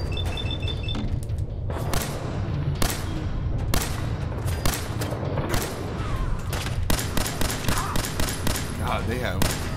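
Gunfire in the video game Fallout 4, repeated loud sharp bursts and booms in irregular clusters, close and punchy, mixed with someone talking throughout.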